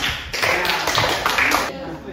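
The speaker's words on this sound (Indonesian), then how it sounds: "tepuk tangan untuk kita semua ya" Students and a teacher clap together in a classroom after a maths lesson activity, a short burst of brisk, fairly close hand claps with voices mixed in, tailing off near the end.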